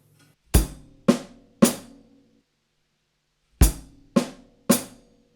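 A drum kit plays the first three-note group of a groove in 7, three sharp hits with hi-hat, repeated twice after a pause, close and dry with no voices.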